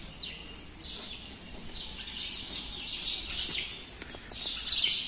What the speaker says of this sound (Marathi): बऱ्याच चिमण्या इथं दिसतात.